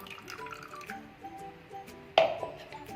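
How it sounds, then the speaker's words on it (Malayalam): Water poured from a mixer-grinder jar splashes into a bowl of rice, arriving as a sudden wet gush partway through that then trails off, close and moderately loud, after quiet kitchen background. "അതും കൂടി ഈ അരിയിലോട്ടേക്ക് നമുക്ക് ഒഴിച്ചു കൊടുക്കാം."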